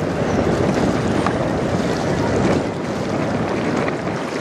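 A 225 m CSL Laurentien cargo ship passes on the St Clair River below the Blue Water Bridges in windy weather, a steady broad rush of wind and water noise that stays loud and constant throughout.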